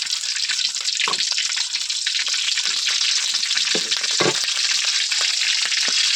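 Egg frying in hot oil in a pan, a loud, steady close-up sizzle that runs throughout, with occasional stirring scrapes and pops and no talk.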